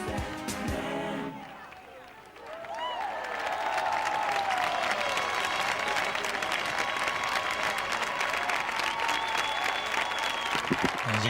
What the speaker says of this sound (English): many of the crowd on their feet, applauding the couples here after their final dance of the evening